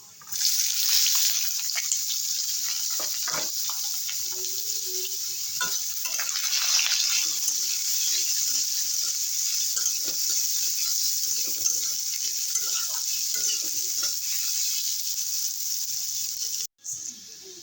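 Potatoes sizzle loudly in hot oil in a pan for a Bengali chochchori with small fish and dima greens. The frying is steady and continuous, with stirring scrapes, and ends in a brief knock near the end.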